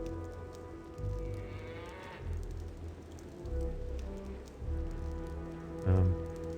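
Cows in the video game Baldur's Gate low in several drawn-out moos spaced a second or two apart, moderately close, with a faint pattering background and no talk.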